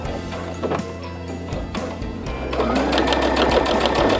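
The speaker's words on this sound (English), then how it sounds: "And we're gonna sew all the way around the edge." Sewing machine running along the edge of a baby bib, starting with a few short bursts of stitching, then settling into a steady, close, continuous mechanical whir.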